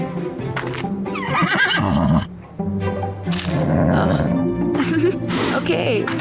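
A horse whinnies loudly and snorts up close, with hoof clops and a few grunting calls, while a voice speaks over parts of it, in the video game Star Stable: Mistfall.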